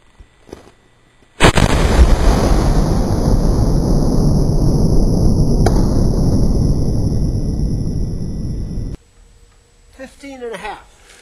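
A howitzer loaded with a 3-ounce charge of triple FG black powder fires a single loud boom that rolls into a long rumbling decay and fades out, followed by brief voices talking afterward.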